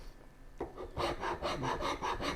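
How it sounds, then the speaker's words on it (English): A cabinet rasp files a gouged channel in the wooden frame of a turning bow saw, giving close, rhythmic rasping strokes that begin after a short pause and repeat steadily with no talk. "taking the my cabinet rasp and I'm basically filing this"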